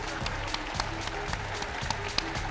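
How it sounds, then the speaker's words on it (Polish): Applause from a press-conference crowd at a HIGH League 2 fight event for fighter Maciej Zony Zoniuk, a dense steady wash of clapping with sharper individual claps popping through. "wielkie brawa, Maciej Zony Zoniuk!"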